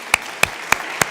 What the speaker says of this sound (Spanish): Un aplauso para la catedrática Indrani Mukherjee